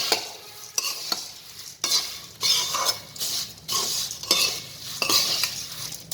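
Metal spoon stirring and tossing papad poha snack in a pan, scraping strokes in uneven bursts with a faint sizzle beneath, close and clear.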